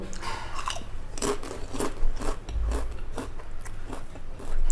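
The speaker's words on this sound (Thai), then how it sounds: "กินเล่นได้เลยเสียงกรอบมาก" Crispy homemade Indian-style fried potato chips made from real potatoes, bitten and chewed close to the microphone, giving a series of sharp, loud crunches in an irregular rhythm with no talking.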